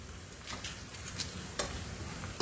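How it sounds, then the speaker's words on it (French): Onion browning in a pan, a soft steady sizzle with faint stirring scrapes and light taps, close and quiet. "je laisse dorer l'oignon"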